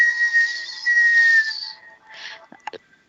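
A voice imitates wind whistling over snowy mountains with a long, steady whistling tone that fades out, followed by a shorter breathy gust and a couple of faint clicks.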